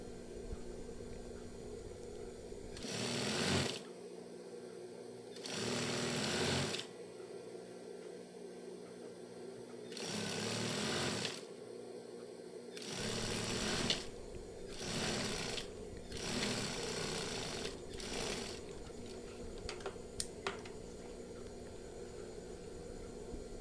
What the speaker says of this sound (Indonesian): Jadi furing pas di bagian tanda ini atau cekrisan ini. Lalu kita jahit.